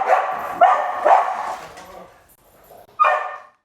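Several dogs barking outdoors in a few loud, irregular bursts, with a quieter gap before one final sharp bark near the end.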